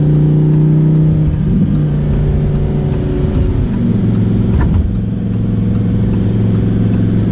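Lamborghini Huracan Performante engine revving in sport mode, a loud close-up drone that climbs and settles in pitch, with a brief sharper rise near the middle before holding steady.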